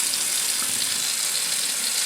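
Water from cooked hamburger drains into a kitchen sink as a steady hiss of running liquid, close and continuous for a couple of seconds with no talk.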